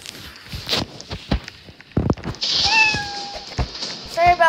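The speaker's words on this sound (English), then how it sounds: "That was our cat, our cute little cat." A cat meows a few times, drawn-out and close, amid scattered footsteps and household knocks.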